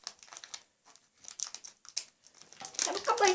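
Crinkly plastic wrapping of a marmalade candy package being opened, with bursts of crumpling and tearing that grow louder and denser toward the end, interleaved with short gaps.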